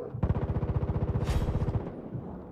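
Rapid automatic gunfire in Far Cry 5 rattles in one loud, continuous burst of evenly spaced shots lasting about a second and a half, then trails off into a short decay.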